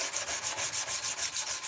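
Rapid rhythmic strokes of hand sanding on wood, each back-and-forth rub a short scratchy hiss repeating about every fifth of a second, close and steady with no talk.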